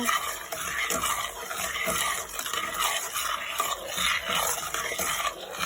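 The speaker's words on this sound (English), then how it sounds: "stir your ingredients and get those incorporated in there" No-bake cookie ingredients being stirred in a pot on the stove, a steady scraping and swishing of a utensil against the pot with faint bubbling and sizzle underneath, continuous and close.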